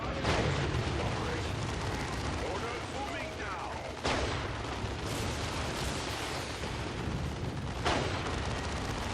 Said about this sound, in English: Beautiful missiles just tearing everything to pieces